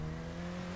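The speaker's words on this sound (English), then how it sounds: "The only thing I did put on was turbo speed, otherwise I got a race engine and all that, so it sounds nice." A race-engined, turbocharged car in GTA 5 holds a steady, loud revving drone with a strong low engine tone, running continuously for a short moment.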